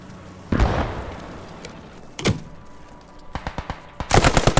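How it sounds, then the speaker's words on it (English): Gunfire and explosions in the WWII game Post Scriptum: a heavy mortar blast, then a second boom, followed by sharp machine-gun bursts that build into rapid, loud rattling fire near the end. "there's mortars right here"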